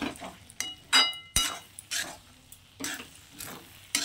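A spoon stirs semiya upma with tamarind water and chopped coriander in a pan, giving short, uneven scrapes and soft clatters at close range.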